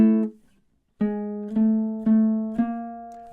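A ukulele plays measure 10 of a song as a short riff of plucked, ringing notes. One note is cut off, a pause follows, then four evenly spaced strums sound clearly and alone.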